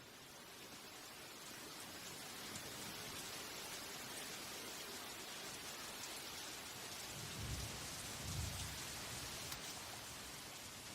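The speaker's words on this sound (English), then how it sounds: "The rain starts pouring down, like a harsh welcome to the real world." Heavy rain pours steadily on a Thai tropical forest in a dense, hissing wash, with a couple of low rumbles of distant thunder near the end.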